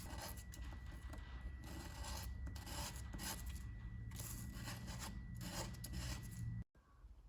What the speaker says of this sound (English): We're just gonna give them a quick little lick with the sandpaper